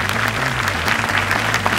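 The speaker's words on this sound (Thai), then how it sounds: "ขอเสียงปรบมือดังๆเลยนะครับ" Audience applauding at an innovation awards contest for a smart medication-reminder system, a steady dense wash of clapping throughout, with a low voice murmuring underneath.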